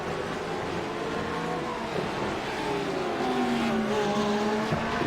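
GT3 race cars at Brands Hatch charge down through Druids, engines droning loudly and continuously with overlapping pitches that rise and fall as the cars pass close by.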